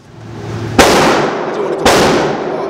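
Two loud, sharp gunshots from a SIG P320 pistol fired at an indoor range, about a second apart, each with a booming echo of the room trailing off.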